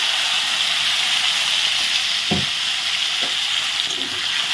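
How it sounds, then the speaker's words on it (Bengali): Taro and potatoes frying in oil, the same oil just used for fish, give a steady dense hiss throughout, with a couple of brief clinks from stirring. "মুখি আর আলুগুলো এই একই তেলে ভেজে নেব।"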